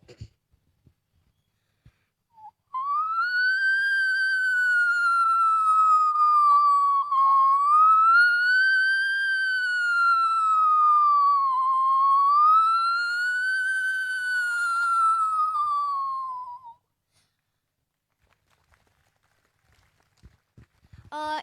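A performer's voice imitates a fire engine siren, a loud, continuous rising-and-falling wail that sweeps up and down for about fourteen seconds and then stops, heard alone with no talk over it.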